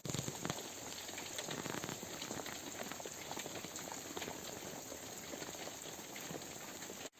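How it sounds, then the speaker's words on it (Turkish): Steady, dense rain patters and hisses on surfaces at a campsite throughout, close and constant with no pauses. "yine de iyi bir yağmur atıyor."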